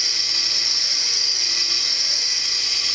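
A rotary tool running slowly at about 5,000–6,000 RPM grinds a finished fire agate stone, giving a steady, unbroken high-pitched whine at close range, with no speech.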